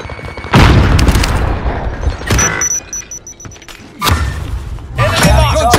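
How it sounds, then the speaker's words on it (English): A frag grenade explodes in the video game Warzone on Rebirth Island, a heavy near boom followed by more thuds and crashes amid game effects and snatches of voice chatter. "Tossing a frag."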